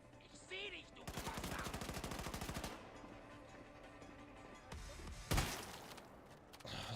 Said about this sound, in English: Stop trying to shoot out my cover